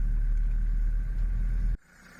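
A Mercedes T1 van idles while parking in front of a bakery in France, giving a low, steady rumble close by that cuts off abruptly near the end, leaving near silence.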